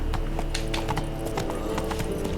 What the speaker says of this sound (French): S'il y a un cheval, je prends aussi.